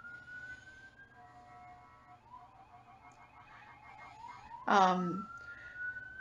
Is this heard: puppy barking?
no